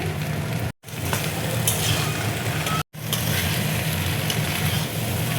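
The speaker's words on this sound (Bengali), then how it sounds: "মশলাটা দেখো ভালো করে কষিয়ে নেব" Masala of Kashmiri chilli powder and sugar frying in a pan for aloo matar sabji gives a loud, steady sizzle, broken twice by brief silences.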